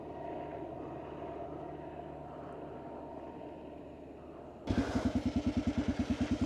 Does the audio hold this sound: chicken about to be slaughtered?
no